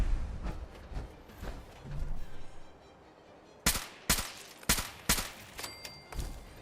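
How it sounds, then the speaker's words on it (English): A recon rifle firing in Fallout 4: sharp, loud single shots at about half-second intervals, with softer scattered gunfire and combat noise before them. "It's like a recon rifle,"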